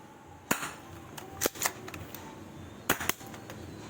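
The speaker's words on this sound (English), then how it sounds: "We're gonna fire out that egg in 3, 2, 1." Sharp, close pops from a spring airsoft gun fired at an egg, a handful of separate cracks spread unevenly over a few seconds against a quiet background.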